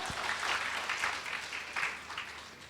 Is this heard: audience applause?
yes